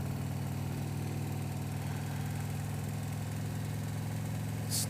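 A motorcycle engine idles steadily at a low, even rumble on a hot summer day, a continuous mechanical hum with no voices.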